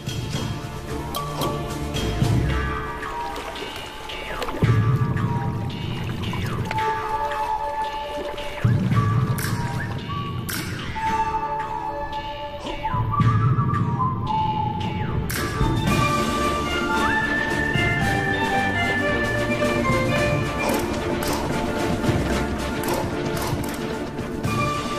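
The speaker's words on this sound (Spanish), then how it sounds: "Las primeras lluvias de verdad en un año." First heavy rain in the Namib desert falling on dry ground, with irregular drips, splashes and trickling water pooling in hollows, close and continuous for the whole stretch.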